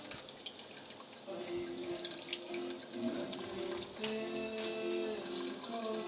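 Water dripping and trickling as curdled milk chenna is squeezed in a cloth for rasgulla, a faint, close, uneven patter of drops with soft liquid splashing.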